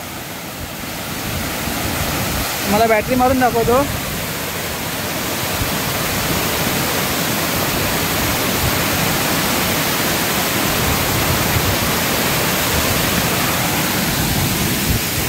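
The Katalkhada waterfall at Rajapur, at night, gives a steady, loud broadband roar throughout, with a person briefly speaking near the start over the rushing water.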